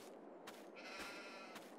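Sheep bleat in the farming game Farming Simulator 22 as the flock fills a second pasture, a quiet, drawn-out bleat heard alone over low background noise.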